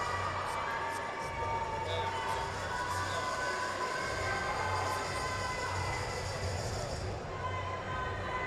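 A crowd at a collegiate powerlifting nationals meet cheers and shouts steadily, loud and sustained throughout, with a continuous low rumble underneath.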